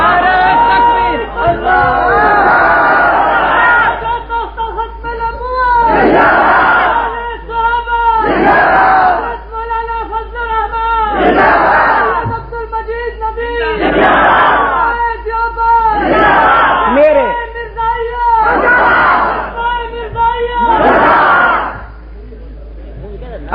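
At an Urdu religious sermon at Lahori Gate, a large crowd shouts a religious slogan back in unison: about eight loud chanted bursts in a regular rhythm, each swelling and fading, before the voices drop away.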